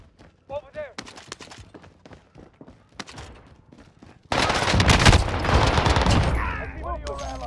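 Gunshots ring out, first scattered sharp cracks, then a sustained heavy burst of rapid fire that fills the second half. Voices shout and call out under and between the shots.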